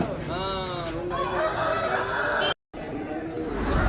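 A rooster crows close by at a chicken market in Machilipatnam, a long rising then falling call, followed by more clucking and crowing with voices murmuring underneath.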